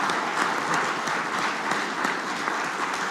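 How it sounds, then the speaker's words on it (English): An audience claps at the Umeme Ltd annual general meeting. The applause is steady and continuous, a dense patter of many hands at moderate level with no speech over it. "maybe we shall clap for them to make them feel welcome and appreciated"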